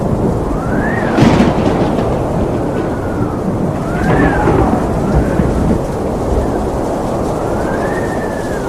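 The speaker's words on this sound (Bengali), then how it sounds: "তখন রাত্রি খুব জোর হাওয়া দিতে লাগলো, আকাশে মেঘ করে এলো, বিজলি চমকাতে লাগলো, আর বৃষ্টি শুরু হলো।" A night thunderstorm in a Bengali cartoon: strong wind and heavy rain form a dense, steady roar, with rolling thunder swells and rising-and-falling wind whistles throughout, loud and continuous, with no talk.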